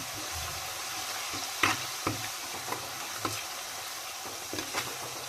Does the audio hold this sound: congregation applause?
no